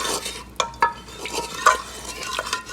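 A utensil stirs and scrapes across the bottom of a soup pot of conch and shrimp soup, making close, uneven scraping strokes with a few sharper metallic clinks over a soft sizzle.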